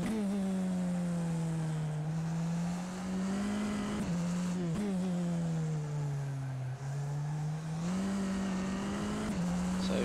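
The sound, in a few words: Tatuus FT-60 race car lapping Silverstone in rFactor 2 video game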